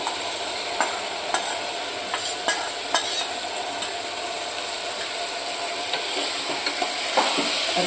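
Sprouted chickpeas, moth beans and mung beans tossed into oily frying masala, a bright continuous sizzle with repeated rhythmic scrapes and clicks of a spoon stirring through the pan.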